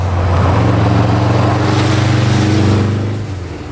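A 1964 Porsche 904 sports car engine roars loud and close in a sustained drone, with a steady mid-pitched throb, easing off slightly at the end.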